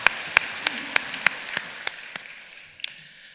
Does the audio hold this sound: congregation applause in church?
yes